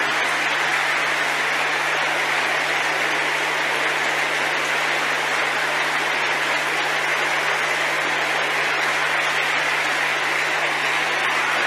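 Church congregation clapping steadily and loudly during a Pentecostal-style worship service, a dense continuous wash of applause filling the whole stretch with a low steady hum beneath and no clear talk.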